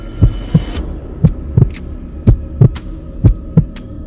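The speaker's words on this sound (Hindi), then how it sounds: "उन दोनों को अपने दिल की धड़कन भी सुनाई देने लगती है" A heartbeat sound effect thumps in a slow, steady lub-dub rhythm, low and heavy, with several paired beats repeating alone over a faint hum.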